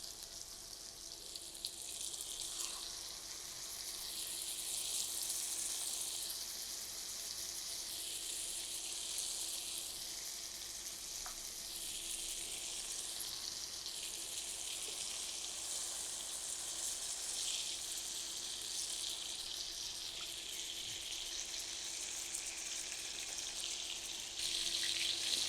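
Chicken pieces fry for a chicken fricassee in about 100 grams of melted butter, giving a continuous sizzling hiss that swells and eases gently as the pieces settle.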